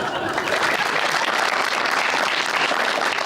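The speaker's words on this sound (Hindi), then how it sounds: "तालियां।" A television studio audience breaks into steady, loud applause on a Pakistani talk show, close dense clapping sustained evenly for a few seconds.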